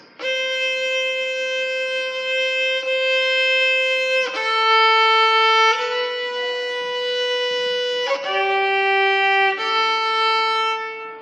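A violin plays the middle four bars of the children's tune Lightly Row, sustained bowed notes changing pitch every second or so, clear and close with no talking.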